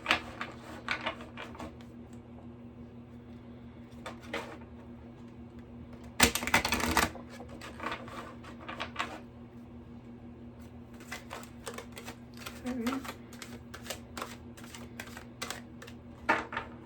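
Oracle cards being shuffled and pulled for a tarot-style reading make soft riffling taps and clicks scattered throughout, with a louder burst of card shuffling in the middle, close up with no talking.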